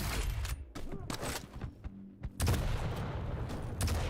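Sharp, crackling railgun blasts in a Quake Champions tournament match, several separate shots spaced across a few seconds amid busy in-game noise, loud and close.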